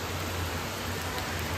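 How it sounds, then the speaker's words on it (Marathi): Heavy monsoon rain falls in Chiplun, a dense, even wash of hiss with a low rumble, continuous and close for the whole stretch, with no voices. "मजबूत पाऊस आहे."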